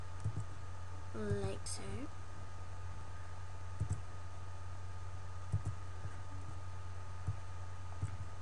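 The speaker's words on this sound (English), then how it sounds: "So control click and then click on the spots." Computer mouse clicks, a handful of faint, sharp single clicks spread out at irregular intervals beneath brief speech.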